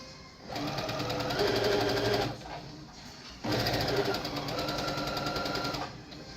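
A sewing machine stitching fabric, running in two loud, rapid bursts of steady mechanical whirring and needle chatter separated by a short pause, close to the listener.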